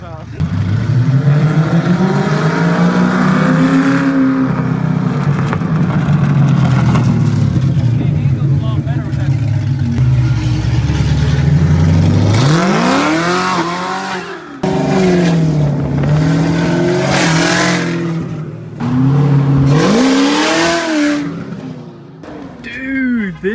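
A Lamborghini Urus engine revs loudly and repeatedly up close, with rising and falling pitch sweeps through a sustained roar, while people talk over it.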